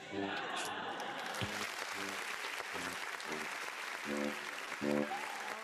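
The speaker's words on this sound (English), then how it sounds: "Give me a round of applause" Applause from a small group on a live sports talk show, a steady patter of clapping running throughout under a murmur of voices and low background chatter.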